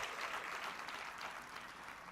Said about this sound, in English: May we please give another warm round of applause to Ms.